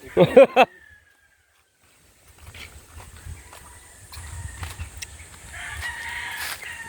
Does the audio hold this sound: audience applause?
no